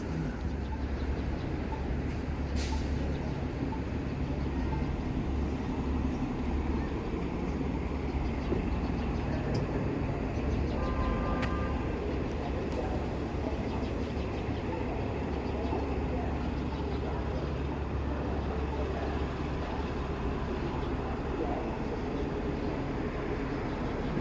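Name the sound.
train going over an overpass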